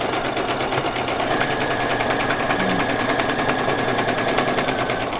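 Domestic sewing machine running steadily as it stitches along the edge of fabric for doll cleaning items, a close, loud, rapid mechanical whirring and clatter held without a break, with no talking.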